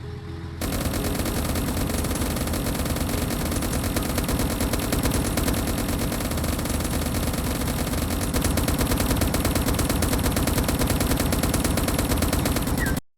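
Relentless rapid gunfire from a turret aimed at a tank in Roblox A Dusty Trip, a dense continuous machine-gun rattle that starts abruptly, stays loud and unbroken, then cuts off sharply at the end.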